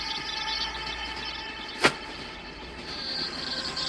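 A train in the video game Wuthering Waves rolls along with a steady rumbling drone, broken by one sharp, brief clack near the middle.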